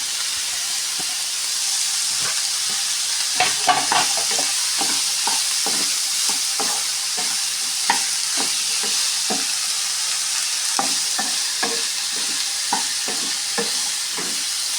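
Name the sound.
capsicum, green chilli and potato stirred and frying in a pan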